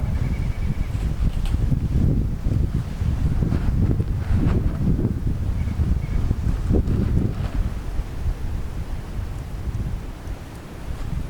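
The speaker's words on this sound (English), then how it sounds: "I'm gonna let the wind calm down just a little bit. It's blowing pretty good right to left." Strong wind blows across the microphone outdoors, producing steady, loud low-frequency buffeting and rumbling with gusty surges throughout the whole stretch.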